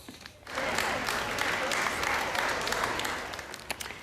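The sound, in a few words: traders and shoppers applauding at Barnsley Market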